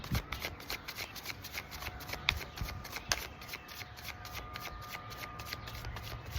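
Tarot cards shuffled by hand in a quiet room, a continuous run of soft riffling and slapping flutters with a couple of sharper snaps, close and moderately quiet, no talk.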